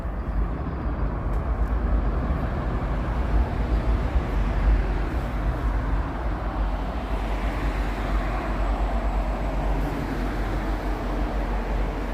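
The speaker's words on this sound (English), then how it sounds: "another train. It's heading into Kipling Station." Train rolling toward Kipling Station in Toronto, heard from a street walk, a steady low rumble under broadband city noise, continuous and moderately distant without sharp events.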